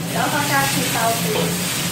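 Shredded green peppers tossed into a hot pan with aromatic ginger for a vegan stir-fry, giving a steady, close broadband sizzle throughout, with a voice speaking faintly underneath.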